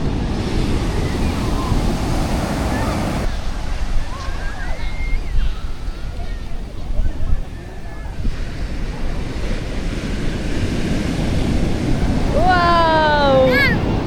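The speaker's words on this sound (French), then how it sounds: "Mais il y a de ces vagues." Ocean waves washing onto the beach at Malibu, a continuous broad surf roar with wind buffeting the microphone and brief faint voices.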